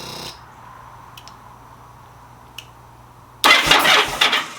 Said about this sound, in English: Bike kicks over.